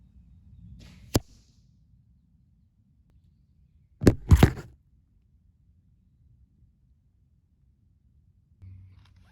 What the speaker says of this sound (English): I'm gonna set my phone down here by the target so you guys can see the impacts